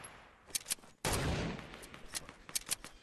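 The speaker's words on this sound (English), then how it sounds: "He's getting shot from behind." Gunfire in a squad shooter video game: scattered sharp shots, then a loud sustained burst of rapid fire, followed by more sporadic cracks, all close and without talk.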